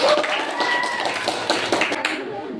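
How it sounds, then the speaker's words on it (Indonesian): Applause from students in a classroom, a burst of many hands clapping together, close and lively, with a voice speaking over it. "kita beri aplaus yang meriah"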